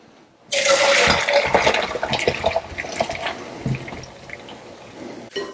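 Potato cooking water pours through a strainer, a sudden loud rush of splashing liquid that gradually thins and trails off, with a small clatter at the very end.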